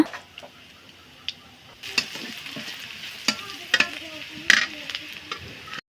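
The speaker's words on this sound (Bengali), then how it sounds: "পেঁয়াজগুলো এক সাইড করে এর মধ্যে দিয়ে দিব আস্ত কাঁচা জিরা" Whole cumin seeds sizzling in hot oil beside fried onions, garlic and green chili in a pan, a steady close frying hiss broken by several sharp crackles and utensil clicks, with no talk.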